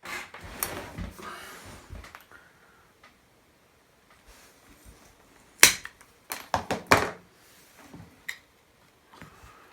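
A wooden plank for the tapered stern of a Yamato battleship model is cut, producing a few sharp close taps and snapping clicks separated by quiet pauses.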